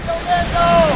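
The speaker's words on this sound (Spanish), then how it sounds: "se ve muy bien la cascada. Es muy bello y el sonido es imponente." La Candelaria waterfall in Colombia gives a steady, broad roar of falling water for a brief moment, with faint tonal whistles or a voice riding over it.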